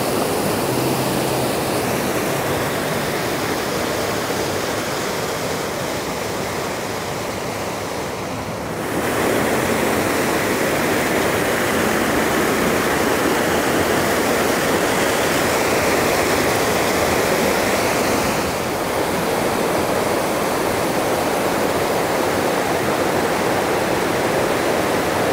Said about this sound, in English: we're here at the lower falls on the Swift River